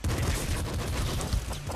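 Rapid gunfire from weapons in the video game Nuclear Throne, a dense crackling burst of shots close up and continuous for the short stretch, with no talk.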